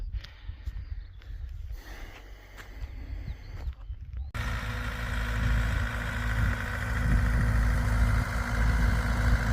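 A tractor engine driving a sprayer runs steadily at close range, a low rumble that grows louder and rougher partway through and stays heavy to the end.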